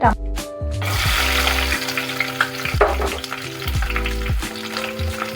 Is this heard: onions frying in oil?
yes